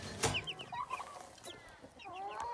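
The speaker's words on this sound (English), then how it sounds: "So here's our meat chickens," Young meat chickens cluck and peep close by, a quick run of short chirping calls with one sharp thump near the start.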